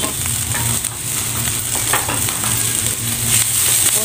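Pechay and mixed vegetables sizzle steadily in a hot pan while being stirred, a dense, continuous hiss with scraping stir strokes and occasional soft clinks running throughout.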